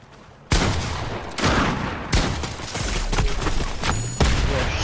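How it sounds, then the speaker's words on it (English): Loud gunfire in a storm battle-royale shooter game: a few heavy shots with sharp onsets followed by sustained rattling bursts of automatic fire, close and dense, without voices. "Boom, headshot. One shot him."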